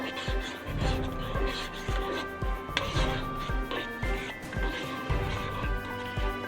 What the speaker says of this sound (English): Now partner, stir that up for me.